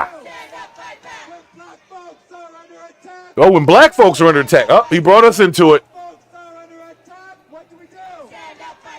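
Protest crowd chanting in rhythmic call-and-response bursts, with a loud group chant in the middle and quieter chanting and talking around it.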